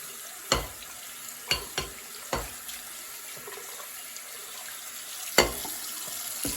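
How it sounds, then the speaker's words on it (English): Acrylic paint is rinsed off laser-engraved glass under a running tap. Water hisses steadily while the glass gives several sharp knocks and clinks against the sink. "we're gonna rinse this one off at the back"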